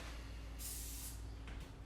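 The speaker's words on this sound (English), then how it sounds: "I just sprayed the paper towel going along this stainless right here" Two short hissing sprays from a spray bottle onto a paper towel, the first longer and the second briefer, close by over a low background hum.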